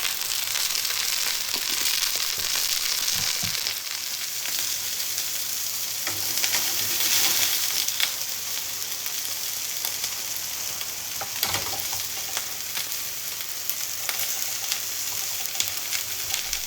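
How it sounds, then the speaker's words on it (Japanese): Pork spareribs sear in olive oil in a pan, giving a continuous close sizzle and crackle with a few brief clatters and shifts as the meat is moved. "このように片面きれいに色がついたらひっくり返してもう片方の面をきっちり焼いていきます。"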